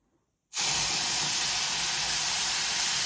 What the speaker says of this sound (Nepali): अब दुध हाल्दैछु